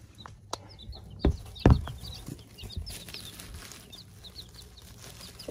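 Baby chicks gathered under a brooder, with soft high cheeping and occasional clucks and wing flutters at moderate distance, plus a few louder knocks and bumps; no one speaks.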